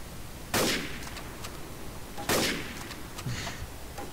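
Two loud, separated gunshots in the video game Trouble in Terrorist Town, each with a sharp crack and a trailing echo, followed by fainter shot sounds.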